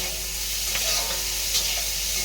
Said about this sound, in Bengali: একটু ভাজা ভাজা হয়ে নাও